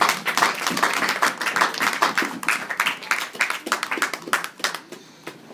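A crowd claps steadily with a dense, continuous patter of many hands, fading and thinning toward the end.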